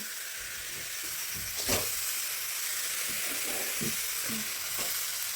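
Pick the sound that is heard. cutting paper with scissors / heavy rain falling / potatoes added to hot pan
potatoes added to hot pan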